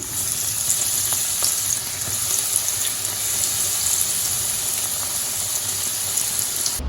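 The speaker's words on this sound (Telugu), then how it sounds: "ఇప్పుడు ఇదేలాగా అన్ని పీసెస్ వేపుకుని తీసుకోవాలండి" Pieces of bread deep-frying in hot oil for bread halwa, giving a loud, steady, close sizzle with a constant bubbling hiss that carries on unbroken throughout.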